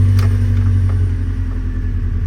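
A Nissan D21 Hardbody truck engine cranks and catches, then runs at a loud, rough idle with steady low rumble and faint mechanical ticking throughout.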